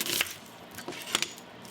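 A kitchen knife slicing a small onion in half on a cutting board, a few crisp separate chops and crunches close by, with quiet pauses between strokes.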